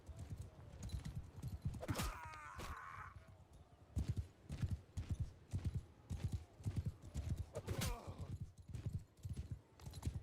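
Horse hooves clop in a steady, even rhythm in the medieval combat video game Mount & Blade II: Bannerlord, close and distinct, with a couple of brief higher cries breaking in over the gait.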